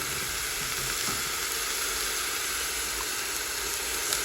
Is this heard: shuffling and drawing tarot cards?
no